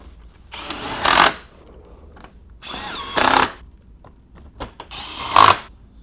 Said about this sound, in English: We'll put these bolts, last 10mm bolts across the front.